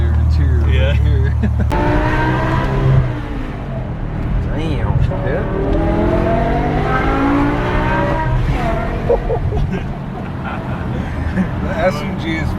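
A powerful V10 engine in a BMW M5 E60 with SMG transmission revs repeatedly from inside the cabin, its pitch sweeping up and down through several climbs, with voices talking underneath.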